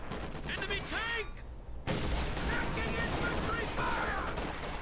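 MG-34 machine gun firing in Company of Heroes 2, a dense continuous rattle of rapid shots with other battle noise and a brief dip partway through, while voices talk over it.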